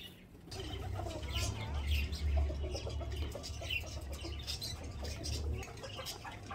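Chickens feeding at a home bird enclosure, with soft scattered clucks and small chirps over a low steady hum, fairly faint and without talk.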